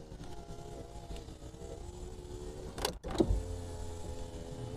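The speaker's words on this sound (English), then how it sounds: "Window motor works great." A car's power window motor whirs quietly as the window travels, with a soft thump near the end of the run, heard inside a used car against a low steady hum.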